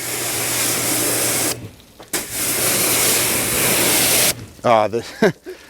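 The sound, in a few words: water spray rinsing a matte car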